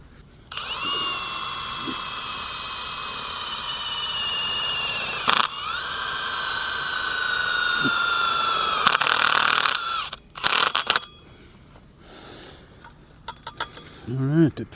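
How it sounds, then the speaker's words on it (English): A power drill drives a self-tapping screw into a chain link fence post, whining steadily at close range with short bursts and a final high-revving spin, followed by clattering handling noises. "Got to put a self-tapping screw in this one."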